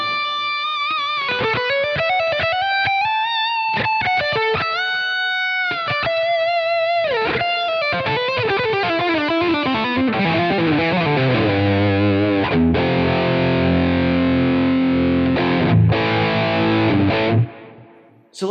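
An electric guitar plays a distorted lead through a Friedman IR preamp inside a digital rig, a run of sustained bent notes and quick phrases that ends in heavy chords before cutting off, loud and continuous.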